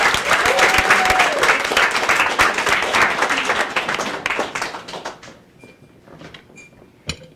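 Audience applause at a New York comedy club greeting a comedian, loud and dense clapping that fades out over several seconds, leaving near silence and a single late clap.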